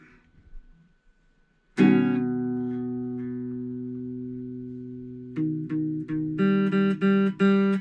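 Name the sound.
loud guitar chord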